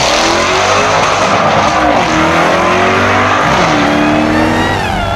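A Jaguar XE SV Project 8 engine revs hard and climbs through gears, loud and close, with rising and falling pitch as it pulls away.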